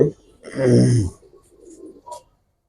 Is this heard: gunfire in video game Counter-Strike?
no